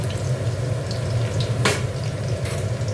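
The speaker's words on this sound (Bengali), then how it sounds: "দেখো একটু কাঁচা লঙ্কা শুকনো লঙ্কা দিয়ে দিচ্ছি।" Green and dried chillies frying in hot oil, a steady close crackle and hiss with one sharper spattering burst midway.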